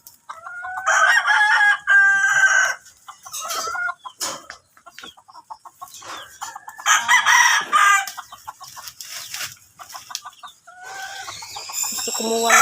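A rooster crows several times, loud and close, with scattered clucks and fowl calls filling the gaps between crows, and no talking.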